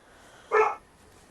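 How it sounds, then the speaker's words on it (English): A single short, sharp dog bark, close and fairly loud, standing alone against a quiet room background. "Which dog is that?"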